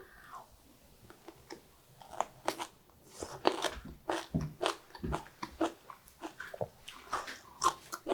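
Crunchy green chili peppers, pickled with salt rather than soy sauce, vinegar or sugar, are bitten and chewed close up. A steady run of sharp, wet crunches and chewing sounds, with no talking.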